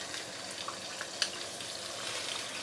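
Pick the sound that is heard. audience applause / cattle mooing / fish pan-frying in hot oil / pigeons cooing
fish pan-frying in hot oil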